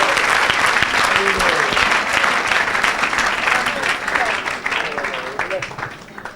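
A church congregation applauding and cheering during a French-language revival service, loud sustained clapping from a large crowd filling the whole stretch, with voices calling out underneath.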